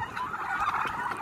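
Huba turkeys on a farm gobble and call in a busy, overlapping flock chorus, fairly close and moderately loud, with no talk.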